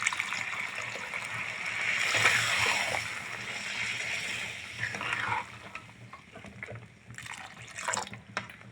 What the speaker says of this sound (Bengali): এখন আমি জল অ্যাড করে দেবো